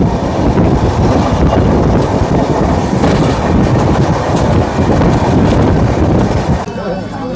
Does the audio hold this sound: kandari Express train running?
yes